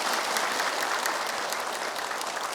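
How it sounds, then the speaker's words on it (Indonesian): A studio audience at a religious television programme applauds, with steady, dense clapping from many hands, loud and even throughout. "Tepuk tangan boleh."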